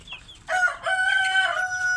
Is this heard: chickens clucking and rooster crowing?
yes